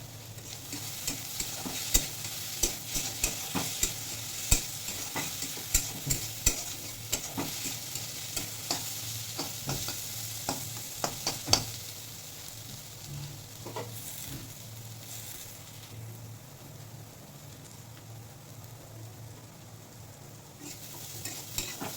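Something fries in a pan with a steady sizzle, while a utensil repeatedly scrapes and taps the pan in quick strokes, then the stirring stops and a softer sizzle continues alone.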